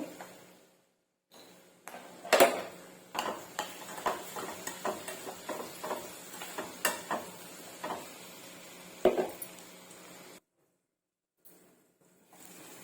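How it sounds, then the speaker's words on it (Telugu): Onions sprinkled with salt fry in a pan, giving a soft crackling sizzle mixed with irregular scraping and stirring taps against the pan, close and fairly quiet, with brief silences at the start and end. "సాల్ట్ వేసుకోవటం వల్ల ఉల్లిగడ్డలు త్వరగా అయితే వేగుతాయి"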